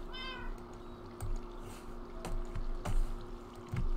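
A Minecraft cat gives one short, clear meow near the start, followed by soft clicks and taps from the game.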